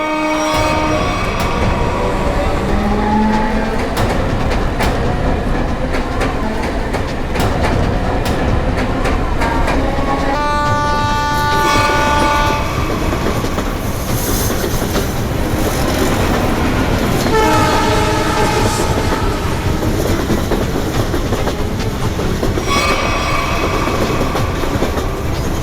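A train runs along the tracks with a constant rumble and clatter of wagons, and its horn sounds in several loud tonal blasts partway through.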